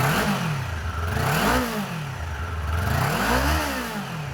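A Kawasaki Ninja 400 fitted with a slip-on exhaust revs loudly from a few feet away, its engine note rising and falling in repeated throttle blips, with no talking over it.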